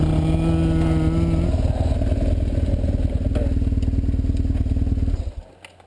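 A BMW F800GS motorcycle with a lowered final drive rides offroad, its engine a steady close low-gear thrum at light throttle that cuts off near the end.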